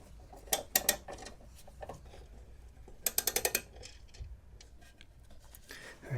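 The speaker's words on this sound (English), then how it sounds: "Let's tighten those down." A ratchet tightens the battery hold-down nuts of a Subaru BRZ fitted with a lightweight Antigravity ATX 20 battery, close crisp clicking runs in short bursts, one fast even train near the middle, with some quiet handling noise between.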